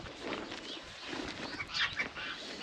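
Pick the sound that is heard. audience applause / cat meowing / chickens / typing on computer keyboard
chickens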